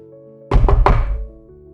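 Three quick knocks on a door, close and firm, bunched within about half a second and standing out over a soft sustained musical background.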